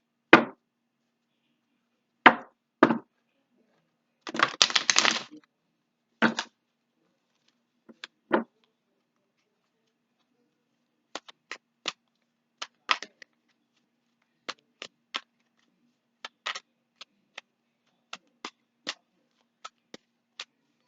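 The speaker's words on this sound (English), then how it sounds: "so I'm going to shuffle here" Tarot cards being shuffled by hand, a few longer riffling bursts early on followed by a steady series of short, crisp card taps and snaps, close and fairly quiet, with no talking.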